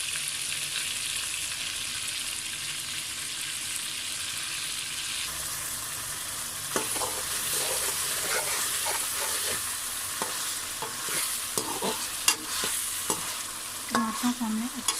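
Green chilies sizzle steadily in hot oil in a chicken karahi, with a spoon or ladle stirring and scraping the pan at intervals, close and fairly quiet, with no talking.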